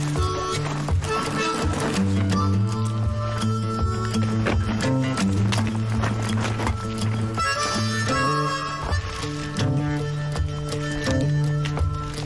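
A horse led on foot down a thick, rough mountain trail in Colorado: irregular hoof clops and rustling brush under a continuous bed of music, fairly close but partly masked.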